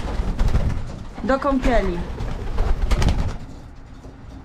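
Pigeons coo in soft warbling phrases close by, with someone talking over and around the calls.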